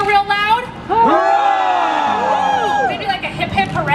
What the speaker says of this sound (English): can I hear you cheer real loud?